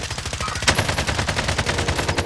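Rapid automatic gunfire in a multiplayer shooter match, a fast continuous rattle of shots holding steady and close throughout.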